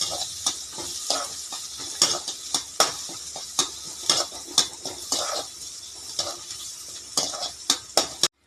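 Curry leaves sizzling in hot oil in a pan while making sambar with ration toor dal, a bright crackling hiss punctuated by regular scraping clinks of a spoon stirring, close and without talk.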